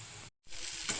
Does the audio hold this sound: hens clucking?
no